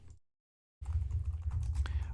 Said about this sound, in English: I know the typing sucks.